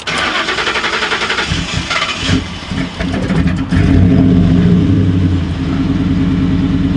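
A Ford Mustang engine, fed by its original fuel pump, cranks with a rapid starter chug and catches, then settles into a loud, rumbling idle that holds steady and close for several seconds.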